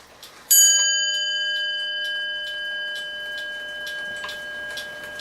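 A 1908 William Gilbert mantel clock strikes its brass bell once, a bright ringing tone that decays slowly while the clock's steady, close ticking continues underneath.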